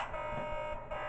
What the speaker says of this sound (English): Glory 3, sound the alarm.